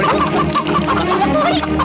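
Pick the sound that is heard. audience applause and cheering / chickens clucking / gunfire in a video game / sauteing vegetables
chickens clucking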